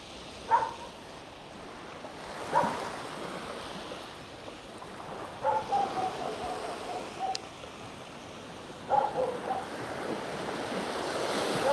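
Sea waves wash onto the shore at Puerto Portals, Mallorca, with steady wind noise on the microphone and a few louder surges breaking at intervals over a constant rushing background.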